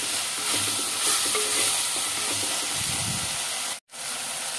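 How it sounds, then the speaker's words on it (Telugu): Masala for an egg and potato curry sizzles steadily in a hot pan with soft scraping stir strokes, a continuous hissing fry with one brief break near the end. "కొంచెం కలుపుకుంటూ ఇట్లా చక్కగా వేగనిద్దాము."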